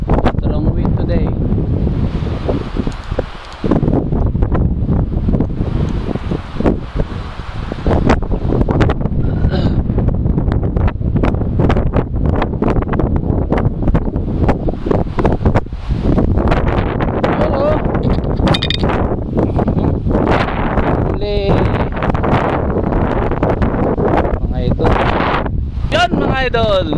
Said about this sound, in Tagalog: Strong wind today.